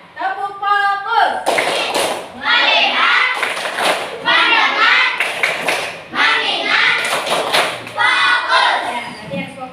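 A classroom of pupils claps a rhythmic focus pattern together, sharp group claps landing in repeated bursts with children's voices chanting and talking between them.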